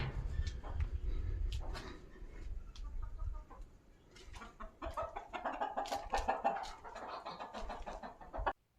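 Chickens clucking with irregular short calls over a low rumbling background, growing busier and denser in the second half.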